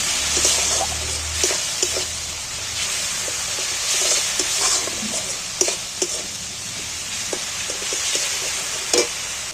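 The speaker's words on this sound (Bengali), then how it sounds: "এবার আমি মশলাটা সম্পূর্ণভাবে কষিয়ে নেব।" Spice paste with chilli and turmeric is stirred and fried in a pan for an egg dish, a close, hissing sizzle with repeated scraping and tapping of the spoon.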